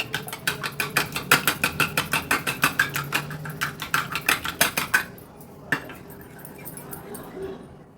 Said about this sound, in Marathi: एक अंड घेतलेलं ते देखील व्यवस्थित आपण फेटून घेऊया